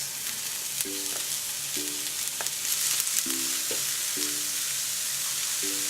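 Chopped mushrooms and onion fry in a little oil in a pan, a continuous dense sizzle close by, with faint repeated tonal beeps sounding in the background.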